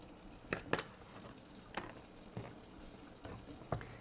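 A knife slices peeled carrots into even pieces for drying, giving a handful of sharp, close taps and clicks on a cutting board with quiet pauses between cuts and no voices.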